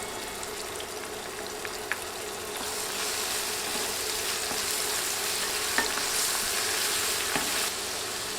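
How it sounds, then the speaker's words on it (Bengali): Garlic and ginger paste fries in hot oil over already-browned onions for an egg and lentil curry, giving a steady close sizzle with a few scattered pops and a slight swell partway through, with no talking. "রসুন ও আদা বাটা 30 সেকেন্ড ভেজে নিয়েছি।"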